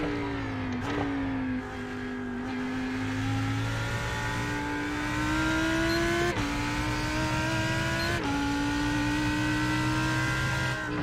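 A race car engine drones steadily in the iRacing simulation at Daytona, its pitch rising through the gears with brief shift dips, as another car closes in to overtake.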